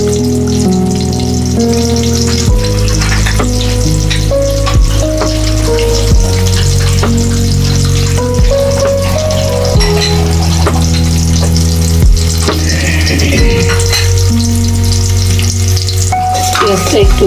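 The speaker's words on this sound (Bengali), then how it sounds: "পেঁয়াজটা একটু ভাজা ভাজা হতে হবে" Onions fry in oil for a shing fish curry with green banana, giving a continuous loud sizzle with occasional stirring scrapes and steady music underneath.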